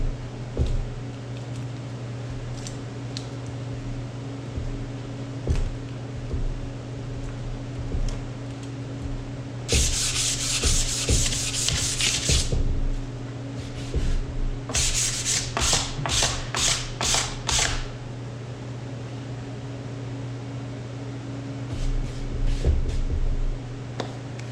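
A wood sign with a resin inlay is sanded in several bursts of harsh, hissing abrasion, some long and some short and rhythmic, over a steady machine hum. No one speaks.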